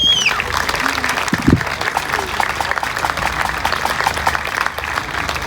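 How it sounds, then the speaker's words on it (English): An outdoor crowd at the Peak District Highland Games at Matlock Farm Park applauds steadily, with scattered cheers and voices mixed into the clapping. "So huge thank you to all the team who worked so hard here at Matlock Farm Park. Round of applause please."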